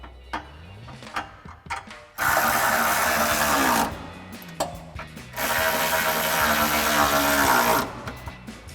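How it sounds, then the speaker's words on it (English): A ratchet with a 10mm socket tightens bolts on Jeep Gladiator JT rock rails. Two long bursts of fast, close, loud clicking are separated by quieter handling noises, with no talk. "we're gonna tighten these down with a 10mm socket"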